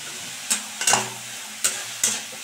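Cabbage sauce with chilli powder stirred in a pan, four sharp spoon knocks and scrapes against the metal in two quick pairs over a low steady simmering hiss, close and moderately loud.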